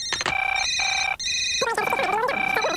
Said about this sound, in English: At the printing hub, our phones never stop ringing.